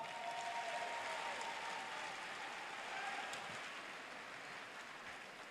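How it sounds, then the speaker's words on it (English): Steady, dense applause from a large audience at a spring college commencement ceremony, heard from a distance as a continuous wash of clapping with no talk over it. "Would you please applaud?"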